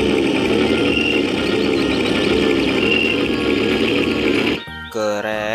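An armored tank's engine rumbles loudly and steadily at idle for over four seconds, then stops and gives way to a brief tonal sound.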